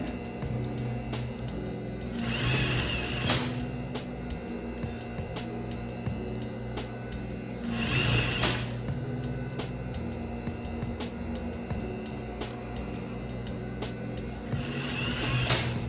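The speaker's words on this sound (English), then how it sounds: "so you can get to your next row and go sew" A sewing machine stitches a tulle puffy sleeve with a rapid, even mechanical whir running continuously at close range, with several short swells in loudness along the way.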